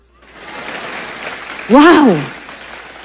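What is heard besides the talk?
applause from the congregation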